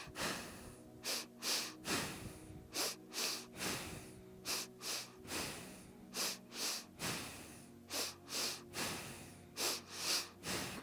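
Forceful short exhales pushed through the nose during a guided breathing exercise, repeating in quick rhythmic sets of sharp snorting puffs with brief pauses between sets, close and clear over a faint steady background tone.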